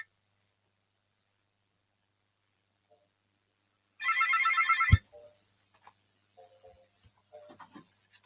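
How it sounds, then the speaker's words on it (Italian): A telephone rings once in a burst of about a second, loud and close in an otherwise quiet room at a sports bar broadcast of a Juventus-Torino match, followed by small scattered knocks and handling sounds. "intanto suona il telefono"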